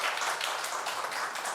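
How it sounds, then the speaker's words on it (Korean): Audience applause for a visiting public administration professor at a university lecture, a dense, even wash of many hands clapping close by, steady and unbroken with no speech. "소진광 교수님께 다시 한번 박수 부탁드립니다"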